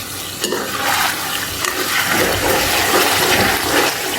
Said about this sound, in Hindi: अब हम इसे मैश कर देंगे टमाटर को इस तरह से।